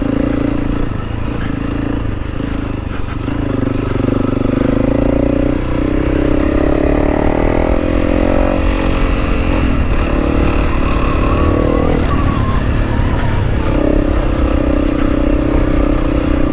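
A Honda CRF300 rally motorcycle engine rumbles continuously, rising and falling in pitch as it accelerates and eases off, with some clatter mixed in throughout.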